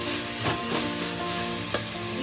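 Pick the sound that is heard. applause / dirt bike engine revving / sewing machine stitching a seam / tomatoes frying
tomatoes frying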